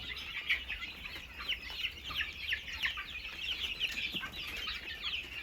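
Desi chickens and 37-day-old chicks clucking continuously on a farm in a busy, overlapping chorus, fairly close, with a steady murmur of farmyard activity underneath.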